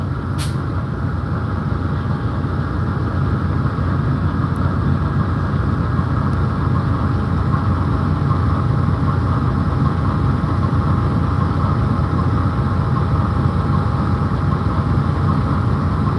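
A diesel locomotive idles at a low, steady rumble throughout, a constant deep drone with no change in pitch or volume.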